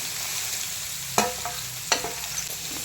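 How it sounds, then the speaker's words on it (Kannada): Capsicum and onion fry in a pan with a steady close sizzle, broken by two sharp scrapes of a spoon stirring the vegetables. "ಕ್ಯಾಪ್ಸಿಕಮು ಈರುಳ್ಳಿ ಎಲ್ಲ ಹಾಕ್ಕೊಂಡು ಮತ್ತು ಇದನ್ನು ಫ್ರೈ ಮಾಡ್ಕೋಬೇಕು."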